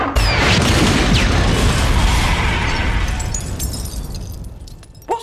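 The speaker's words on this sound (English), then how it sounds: "Peter throws in a pumpkin bomb" Pumpkin bomb explosion in a Spider-Man movie scene, a loud, close blast with rumbling debris and crashing that slowly tails off, then a sharp final impact.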